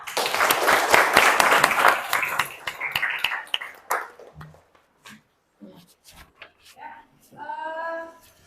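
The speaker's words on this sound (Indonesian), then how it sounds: "kita kasih aplaus untuk kelompok 5 ya" A classroom of vocational high school students gives a group a burst of dense clapping that tapers into scattered claps, followed by voices and chatter.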